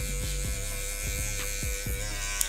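Electric hair clippers with a taper blade cut hair up close during a fade, a steady motor buzz with a mains-like hum and faint rhythmic thumps as the blade is flicked open.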